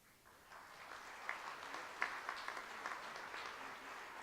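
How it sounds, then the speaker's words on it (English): Audience at a junior hockey team's awards banquet gives a round of applause, a soft, distant wash of clapping that builds after a quiet start and holds steady. "a nice round of applause for 20-year-olds, Marc-Andre Dumas"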